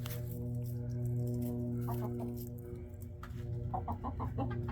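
A large rooster among smaller chickens in Girdwood, Alaska, with soft clucking and short fowl calls near the camera, faint and intermittent over a quiet outdoor background.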